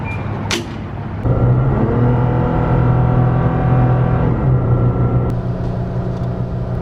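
Engine of a lifted Toyota Tacoma towing a camper, droning at high RPM while climbing a mountain hill near Morgantown, a loud steady roar that swells and holds with a faint whine, heard from inside the cab.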